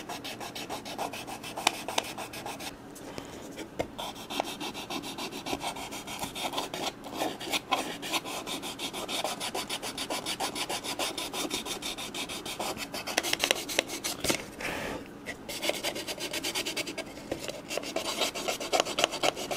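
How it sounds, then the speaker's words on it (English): Folded 220-grit sandpaper rubbed by hand over carved wood, a steady close scratchy rasping that runs on with rhythmic strokes, quiet and without talk. "I'm just going to fold it up and start sanding."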